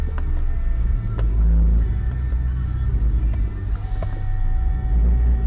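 Car reversing as a steady, loud low engine rumble close to the microphone, with faint tonal whines and small knocks, no voices.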